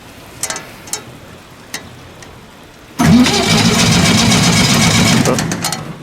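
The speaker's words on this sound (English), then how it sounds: "So I'm gonna get this thing the Lincoln fired up here and get going on this. Show you a cold start here." After a few faint clicks, a Lincoln engine-driven welder fires up from cold with a sudden loud start and settles into a steady, close, mid-pitched running drone.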